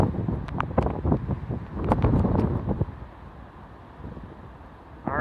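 Strong hurricane winds from Hurricane Irma in Fort Lauderdale, Florida roar and buffet the microphone in loud gusts that ease off toward the end.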